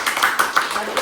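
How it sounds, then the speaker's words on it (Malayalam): Hand clapping at home: a quick run of sharp, evenly spaced claps, close by, with a voice talking over them. "കയ്യടിക്ക്"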